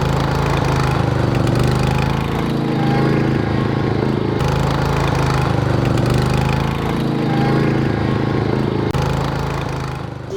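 A lawn mower shreds leaves for compost, its engine droning loud and close in a steady, unbroken roar with slight swells in intensity throughout.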